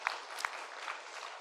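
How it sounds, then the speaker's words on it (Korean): A church congregation applauding, a faint, steady patter of many hands clapping from a distance with a couple of sharper claps near the start. "서로를 격려하며 한번 축복의 박수 한번 해주시기 바랍니다"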